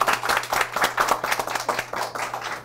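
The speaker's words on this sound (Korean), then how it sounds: "여러분 오늘 그 수신 두 분의 MC분들한테 박수 부탁드리겠습니다" Rhythmic clapping from a small audience at a science career mentoring talk show, distinct individual hand claps in quick succession, moderately close and steady throughout.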